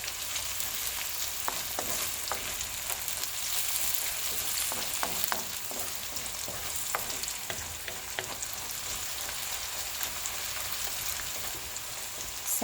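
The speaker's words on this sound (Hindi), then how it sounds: "गोल्डन ब्राउन होने तक इसको मैं फ्राई करूंगी" Onions and white cumin seeds frying in a karahi with steady hissing sizzle and crackle, broken by repeated scraping stirs of a spoon against the pan throughout, close up with no talking.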